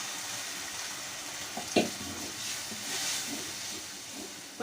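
Water poured into a hot pan of onion, green chilli and ginger in a home kitchen gives a soft, continuous hiss and sizzle, with a single utensil knock partway through.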